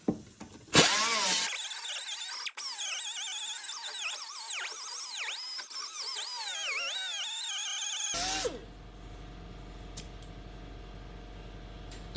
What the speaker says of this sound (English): I'm going to grind down this lip a little bit more right here